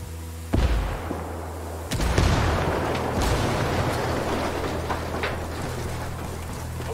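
Gunfire in Ghost Recon Wildlands, with sharp shots cracking out over a dense, rumbling roar of sustained fire and echoing booms, loud and continuous for several seconds with no talking.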